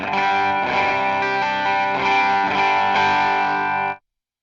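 Overdriven electric guitar chords played through an Archer Horse Scimitar Klon-style overdrive pedal with a warm, gritty crunch, sustaining steadily for about four seconds before cutting off abruptly.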